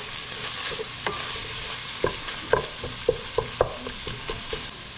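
Ground beef and garlic cook in a pan under a constant soft sizzle, and a spoon scrapes and taps against the pan in a run of distinct knocks through the middle.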